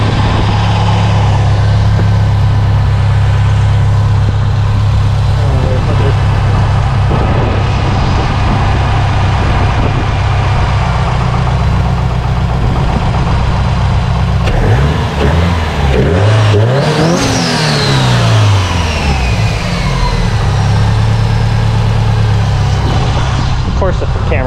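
A grey Subaru STI fitted with a big turbo idles with a deep steady engine drone, then revs up sharply with rising and falling engine pitch, heard close and loud for the whole stretch.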